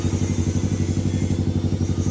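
The engine of a Honda CBR250RR motorcycle runs at a steady, even idle with a rapid, throbbing pulse, heard close up. There is no talking.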